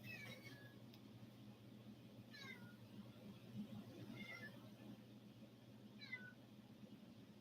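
A house cat meows several times at moderate distance, short rising-and-falling calls spaced a couple of seconds apart over a steady background hum, with no talking.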